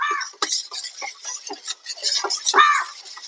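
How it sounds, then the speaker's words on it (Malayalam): A spoon stirs banana fritter batter in a bowl, giving light, irregular clinks and scrapes against the bowl in quick succession, close and fairly soft, with no talking. "അല്പനേരം ഇളക്കുക."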